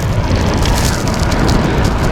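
Strong wind roars against a touring cyclist riding a Big Bend road near Fort Davis and Marathon, a constant loud buffeting rumble with gusty flutter throughout.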